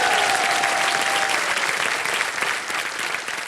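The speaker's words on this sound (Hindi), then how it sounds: "तालियां बज जाए इनके लिए।" Loud, dense studio audience applause on the TV quiz show KBC, filling the whole moment at a steady level, with a faint tonal note early on.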